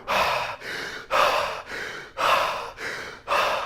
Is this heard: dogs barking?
no